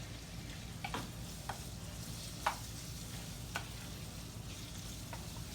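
Taco meat thickened with seasoning cooks down in a hot pan, giving a steady close sizzle and fry with a few sharp spoon scrapes and clicks against the pan.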